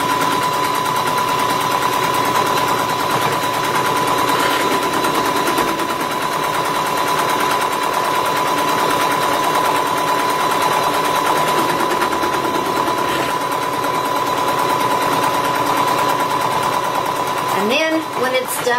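An embroidery machine stitches an applique onto a Christmas stocking, a loud, rapid, continuous mechanical chatter with a steady whine running close up throughout, ending with a brief clatter.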